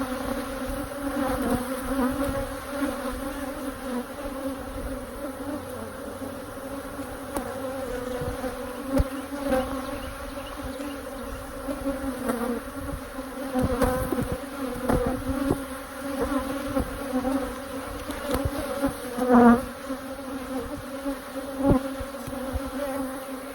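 Angry honeybees swarm around an opened hive, making a dense, steady buzz that holds for the whole stretch. The drone swells and dips slightly as individual bees pass close by.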